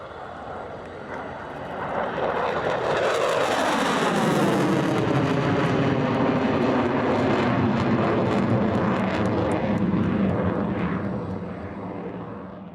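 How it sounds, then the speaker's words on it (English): A Royal Air Force Typhoon jet roars past on its final air display pass, a loud, broad rumbling roar with a sweeping pitch shift as it flies by, building and holding steady. "So from the right-hand side, final pass, this is Royal Air Force Typhoon."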